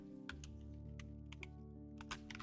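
Keys clatter on a computer keyboard as a prompt is typed into an AI image generator, giving scattered quick clicks in small bursts over a steady low hum.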